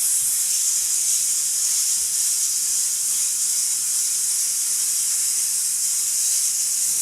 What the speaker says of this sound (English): something you can do when steaming and cleaning grout